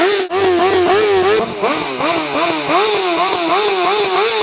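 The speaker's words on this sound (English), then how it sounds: "they say their bikes are too loud, or they're revving it all the time. Dude, we all rev our bikes." A Harley-Davidson motorcycle engine revs in steady repeated throttle blips, loud and close, with no talk over it.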